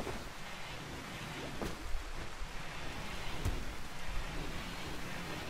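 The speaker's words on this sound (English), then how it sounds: "Also, it's raining." Steady rain in RimWorld, a soft, continuous hiss of falling water with a faint low rumble, fairly quiet and alone.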